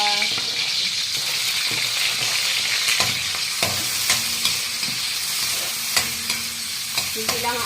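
Chayote sautés in a pan under a loud, continuous sizzle, with repeated sharp clacks and scrapes from a spatula stirring against the pan throughout.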